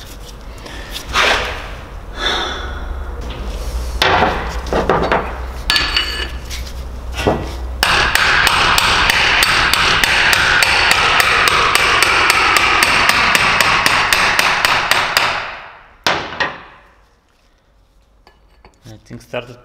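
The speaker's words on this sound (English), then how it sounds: "Probably going to try to hammer it down." Metal hammer blows drive a BMW E36 differential cover down during a 188 mm limited-slip differential rebuild, with loud sharp ringing strikes at first in irregular bursts, then a rapid steady run of hits, before the hammering stops and faint clinks follow.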